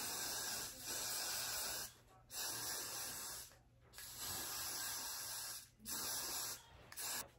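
A spray bottle mists water onto the lace of a pink-dyed 613 frontal wig in four long, steady hissing bursts with short pauses between, close and alone.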